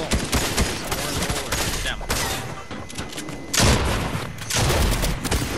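Gunfire in an online shooting game, a burst of sharp booming shots and rapid fire in clusters, loud and close, with players talking over it at times.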